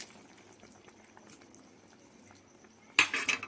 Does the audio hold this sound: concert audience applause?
no